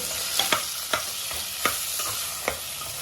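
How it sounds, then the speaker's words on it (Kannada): Chicken curry frying in a pan, Andhra style, a steady bright sizzle with a few spaced knocks of a spoon stirring through it, close and continuous. "ಚೆನ್ನಾಗಿ ಫ್ರೈ ಆಗಲಿ. ನೋಡಿ ಫ್ರೈ ಆಗಿದೆ."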